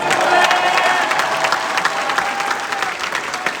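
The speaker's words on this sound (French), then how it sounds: "Maximum d'applaudissements pour Eva." A studio audience applauds for Eva, a loud, dense wash of clapping that holds steady for several seconds, with faint cheers mixed in.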